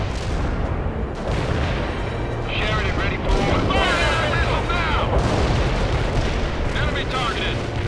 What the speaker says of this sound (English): Fire that missile now!